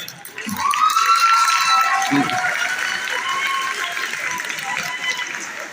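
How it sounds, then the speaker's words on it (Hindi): Applause from an audience at a school annual prize distribution ceremony, steady and crowd-wide for several seconds, with a voice carrying over it. "बहुत अच्छी तालियां हैं।"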